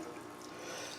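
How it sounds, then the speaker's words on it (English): Water pours steadily from a tap or can onto potted petunia and coleus plants, a close, continuous splashing hiss with no pauses. "Gotta water them now."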